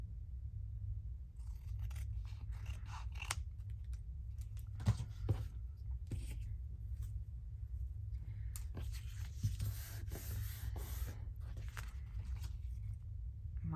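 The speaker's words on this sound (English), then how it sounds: "I'm going to trim, it's a bit crooked. I'll trim that there." Scissors trimming a paper journal card at a craft table, heard as faint, close snips and soft paper crunches scattered over a quiet hum.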